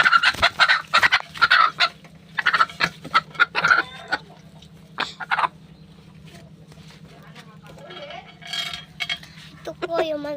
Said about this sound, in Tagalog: Ito po yung manok natin, guys.